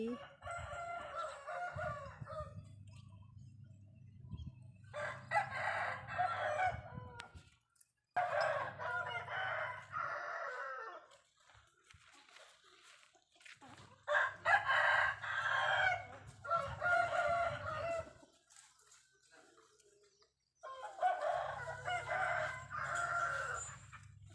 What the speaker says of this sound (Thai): ไก่ก็ขันทั้งวันนะคะ ขันทั้งวันเลย